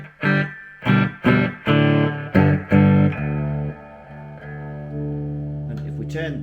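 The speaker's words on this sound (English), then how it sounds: "So put the reverb in." Heavily distorted electric guitar chords through a Hiwatt 100R tube amplifier in need of repair, struck several times in a row, each ringing out with a long reverb tail, then a sustained fading chord.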